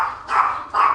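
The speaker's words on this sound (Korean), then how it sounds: "누군가의 기척 소리에 흩어져 있던 강아지들이 하나둘씩 모여들기 시작하는데요" Puppies give two short, bright barks in quick succession, close and fairly loud, with nothing else heard around them.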